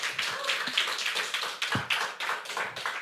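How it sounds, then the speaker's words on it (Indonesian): An audience at a university student presidential and vice-presidential candidate debate applauds, a steady dense patter of many hands clapping at moderate distance with no talk. "teman-teman bisa memberikan tepuk tangan"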